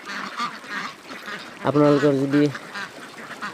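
Khaki Campbell and White Pekin ducks on a farm in Barpeta, Assam, give a short burst of loud, overlapping quacks that is louder than the surrounding sound, with a person talking before and after.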